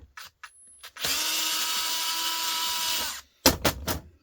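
Power screwdriver backing Phillips screws out of an electric motor being stripped for copper: one steady two-second whir up close, with short clicks and clunks before and after it.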